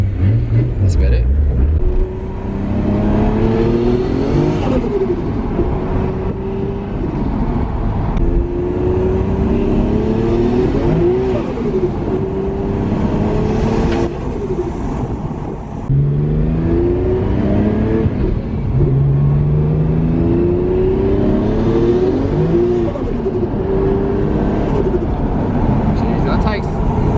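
Nissan R32 GTR engine pulling at half throttle on a road drive, heard from inside the car in repeated rising revs through the gears, loud and close, with people talking over it.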